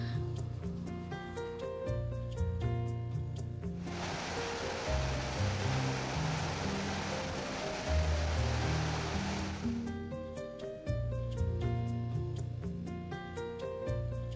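Water from the Durance river rushes into the Carpentras irrigation canal, a steady broadband roar lasting several seconds under continuous background music.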